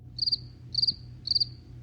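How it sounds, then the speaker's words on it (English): Crickets chirp as a sound effect in three evenly spaced, shrill trilling bursts over a low quiet hum, with no talking. "Crickets."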